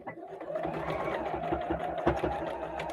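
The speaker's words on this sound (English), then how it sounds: "I'm going to just sew a straight line" A sewing machine runs steadily, stitching a straight line through skirt fabric with a fast, even mechanical chatter, close and moderately quiet.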